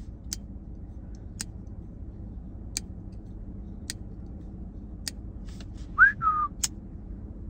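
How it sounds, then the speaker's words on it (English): A few sharp metallic ticks ring out at intervals in a quiet room, followed by a brief bright ting as the M390 steel blade of a folding knife snaps closed. "Do you hear that ting when it closes too?"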